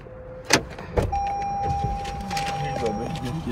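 A car door thuds shut twice in quick succession as someone gets back into the car, followed by a steady in-car hum with a continuous tone and faint background sounds, and people talking quietly.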